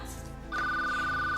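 A telephone begins ringing partway through with a steady, sustained electronic tone that stays loud and clear to the end, with no voices.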